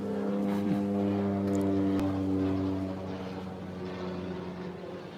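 A plane passes overhead with a steady, droning engine rumble that holds loud for a few seconds and then slowly fades, heard alone without talking.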